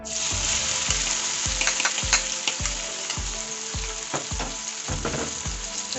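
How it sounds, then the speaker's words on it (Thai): Chilies frying in hot oil for squid basil stir-fry, a loud crackling sizzle punctuated by a regular series of low thumps from the spatula or pan, about ten in a row. "จากนั้นใส่พริกลงไปนะครับผมเนี่ยใส่พริก"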